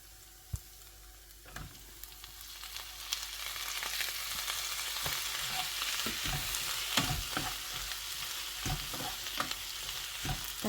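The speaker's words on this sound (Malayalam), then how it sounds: "നമുക്കിനി ഇതിലോട്ട് തക്കാളി ഇടാം." Chopped tomatoes frying with sautéed onions in a pan, a steady sizzle that swells after the first couple of seconds, broken by sharp knocks and scrapes of stirring, with no talking.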